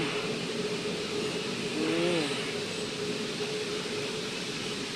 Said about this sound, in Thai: รถไฟก็วิ่งเหมือนเดิม